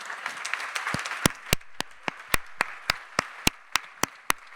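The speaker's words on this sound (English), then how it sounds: "I think at least we can all give you a huge round of applause" Applause from a seminar audience after a session on mortality and violence in conflict settings, beginning as a soft wash of many hands and thinning into a handful of distinct, sharp individual claps spaced across the room.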